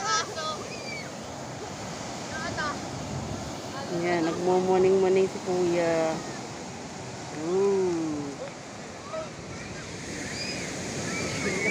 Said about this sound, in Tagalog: Ayan, sobrang ganda ng dagat.